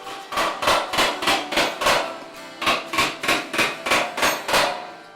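A hammer beats copper in a coppersmith's workshop, about fifteen loud, evenly paced metallic blows in two runs separated by a short pause.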